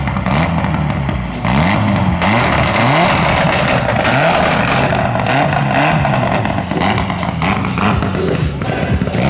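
A rally car at the ceremonial start of Rally Bulgaria 2017, its engine loud and close, revving in repeated rising and falling surges over an idle amid crowd noise.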